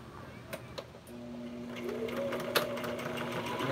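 A sewing machine runs in reverse stitch on a crazy quilt coaster, a steady close mechanical whirring hum starting after a few light clicks and continuing evenly.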